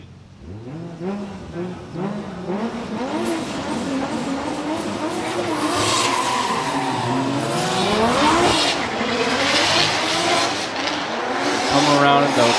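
Two Nissan Silvia drift cars, an S14 and an S15, run in tandem at Okuibuki Motorpark in Shiga, their engines revving and rising in pitch, with tires squealing through the corners while a commentator speaks over the noise.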